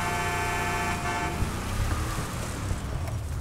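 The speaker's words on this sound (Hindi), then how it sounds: "अब इसको भी हॉर्न देना पड़ेगा" A car horn honks in GTA 5 during Michael's snowy off-road drive, a steady tone sounding for about a second and a half over continuous engine and road rumble, with no one talking.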